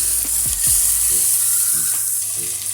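Chopped onion sautés with ginger and garlic in a hot pan, giving a loud, continuous close sizzle with a few soft scraping stirs of a spoon against the pan.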